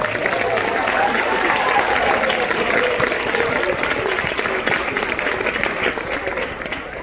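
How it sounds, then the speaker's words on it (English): An audience at a school talent showcase claps steadily and continuously throughout, a dense wash of applause with some voices mixed in. "Let's give them another round of applause."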